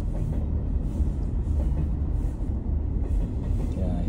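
A long cargo train rumbles steadily past a level crossing in British Columbia, Canada, a close, loud low roar of rolling wagons with faint wheel clatter and no talking.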